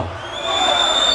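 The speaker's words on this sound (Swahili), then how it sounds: "Makofi mengi sana" A crowd at a live show during the Uhuru Torch vigil in Ubungo, Dar es Salaam, cheers and applauds, a noisy wash that swells louder partway through, with sustained high ringing tones running over it.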